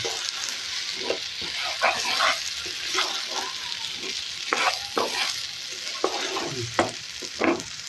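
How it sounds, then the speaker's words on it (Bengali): Rice for beef biryani is stir-fried in a pan, a soft continuous sizzle under frequent spatula scrapes and clinks at an uneven pace, close by, with no talking. "এখন আমি চালটাকে ভালো করে কষিয়ে নেব"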